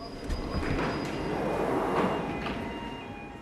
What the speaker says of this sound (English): Let's board a train and see if it's any hotter on there.